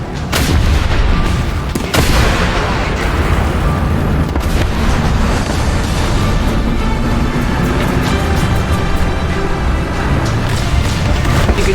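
Tank shells and anti-tank missiles firing in War Thunder, a World War II tank battle game, with loud continuous booming gunfire and blasts layered densely throughout, sharp cracks standing out near the start and around two seconds.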